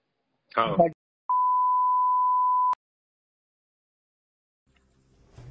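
A phone call cuts off with a single steady electronic tone lasting about a second and a half, right after a brief voice, followed by near silence.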